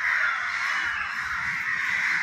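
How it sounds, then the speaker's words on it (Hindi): Crows gathering at a daily feeding, a large flock of around two hundred birds, caw continuously in a dense overlapping chorus that stays loud and steady throughout, with no talking. "गाइस कौवे ऐसे रोज आते हैं और ऐसे रोज खिलाया जाता है"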